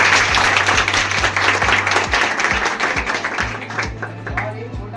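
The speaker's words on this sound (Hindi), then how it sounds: "आप सभी लोग मिलकर मानव भाई के लिए ताली बजाएं" A group of students claps together for Manav, a classmate being honored; steady, dense clapping runs through the whole stretch at close range, with a low hum and some mixed noise underneath.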